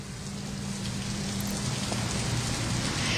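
Heavy rain pours steadily and close by during a live nighttime TV news report on flooding in Paraíba neighborhoods, a dense continuous hiss with no voices.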